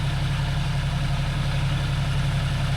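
A John Deere 5050D tractor engine runs steadily in second gear at about 1500 rpm, a loud, continuous low drone with no change in pitch and no voices.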